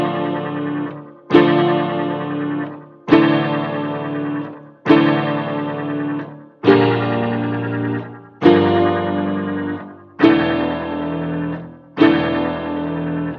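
Layered pianos play a dark orchestral trap melody, with eight heavy, evenly spaced chords about every 1.6 seconds, each struck hard and decaying, thick in the low end and processed with distortion and effects.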